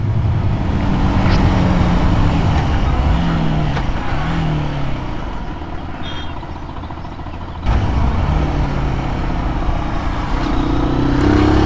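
A Zontes 125 motorcycle rides through road traffic, a steady close engine and wind roar with rising and falling pitch as it accelerates and shifts, surrounded by passing vehicles, without speech.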